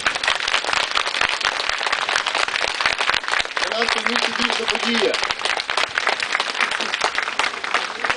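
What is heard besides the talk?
crowd applause thanking the archbishop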